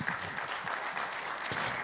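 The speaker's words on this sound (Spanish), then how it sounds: "¿Le puedes dar un fuerte aplauso al Señor?" A church congregation applauds for the Lord during a Spanish-language worship service, a soft, diffuse wash of clapping that holds steady and fairly distant for the whole moment.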